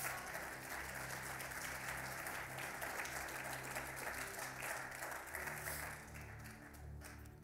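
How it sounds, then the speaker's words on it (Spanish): A church congregation applauds steadily in a dense, sustained wash of clapping that fills the whole stretch, with a low, tonal musical backing underneath. "Dale un fuerte aplauso al Señor,"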